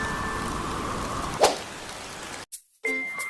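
Cartoon rain falls as a steady, even hiss for about two and a half seconds, with a single bright drip partway through, then cuts off abruptly before a short tonal passage.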